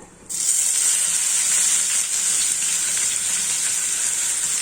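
Ground onion paste hits hot oil in a pan for a Tamil mutton kola urundai kulambu, bursting into a loud, steady close-up sizzle that holds without pause.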